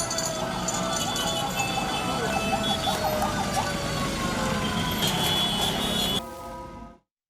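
A fire engine siren wails on a loud, continuous rising and falling cycle with a clanking rattle underneath, cutting off abruptly near the end.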